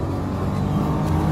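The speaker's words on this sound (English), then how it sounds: "back on the throttle, just trying to build the speed through the corner" A Nissan Juke-R accelerates steadily on a race track, its engine note droning at moderate loudness for a brief moment with no voices.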